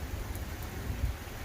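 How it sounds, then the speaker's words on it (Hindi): Heavy rain driven by strong wind, a dense steady wash of noise with low rumbling gusts, constant throughout and heard alone without voices. "लेकिन शदीद बारिश हो रही है"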